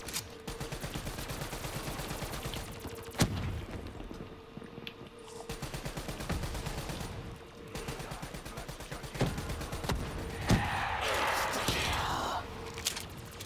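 Gunfire from Call of Duty Black Ops 3 Zombies on The Giant map, with scattered sharp shots and bursts through a steady game soundscape, plus a louder rattling stretch near the end.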